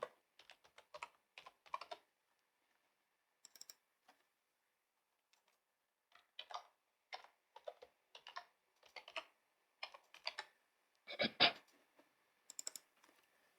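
Keys clatter on a computer keyboard while Python code for a Kivy app layout is entered, with quick bursts of close, crisp clicks separated by short pauses and one louder cluster near the end.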